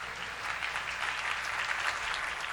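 A church congregation claps together in steady, continuous applause, a full, even wash of hands that stays level throughout the short stretch with no voices over it.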